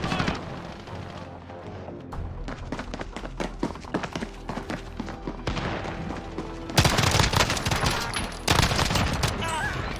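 Rapid pistol fire from dual M1911 handguns in the video game Call of Duty: Warzone, heard as dense bursts of sharp cracks that build to a loud, close volley near the end, mixed with footsteps and game noise.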